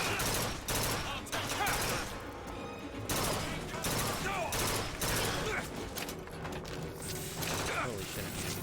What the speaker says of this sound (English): I'm shooting a gun